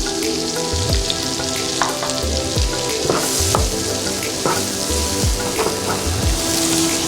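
Chopped leeks frying in butter in a pot for leek and potato soup, a steady close sizzle and crackle with a few soft stirring clunks, no talking.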